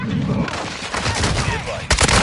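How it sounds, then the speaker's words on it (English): Incoming gunfire in a video game, a dense crackle of shots around the player with a sharper burst near the end, under game voice and ambience. "I'm taking fire!"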